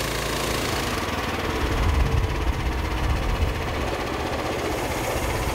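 A 13.5 horsepower Briggs & Stratton gas engine on a Norwood LumberMan MN27 portable sawmill runs steadily at a low idle-like hum, moderately loud and alone.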